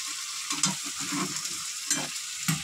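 Food frying in a karahi pan as it is stirred, with a steady bright sizzle broken by a few louder bursts of scraping strokes about every second, close and with no voices.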